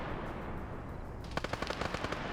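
Video game gunfire during a night PvP military match, a rapid burst of roughly a dozen sharp automatic shots following a quieter stretch of low rumbling background.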